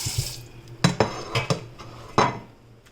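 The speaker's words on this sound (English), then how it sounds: "Then I get a plate." A plate is picked up and handled in a home kitchen, giving a series of sharp ceramic clinks and knocks spaced irregularly, close and fairly quiet, with no talking.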